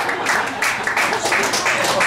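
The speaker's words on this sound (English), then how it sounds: "That applause break is for her." An audience at a stand-up comedy show applauds, dense, bright clapping that swells in waves and stays loud across the whole stretch, with some talk mixed in.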